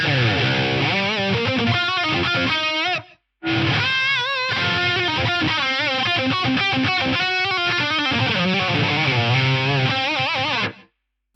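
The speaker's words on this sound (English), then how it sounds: "The reverse gated reverb is super cool if you want something just kind of special on leads" Electric guitar lead phrases drenched in a swelling reverse gated reverb from a Yamaha SPX90 effects unit, notes bending and smearing, with a brief gap midway and an abrupt stop.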